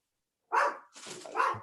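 Two close barks from dogs indoors, a sharp one followed after a short pause by a longer, rougher bark, with silence before them.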